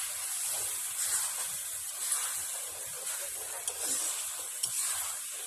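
Chicken masala sautés in hot oil in a pan, giving a continuous soft sizzle with light scraping strokes from stirring now and then.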